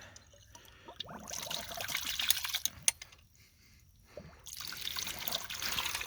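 Water trickles and splashes faintly into a ram pump, coming in uneven bursts with quieter gaps between them and no talking.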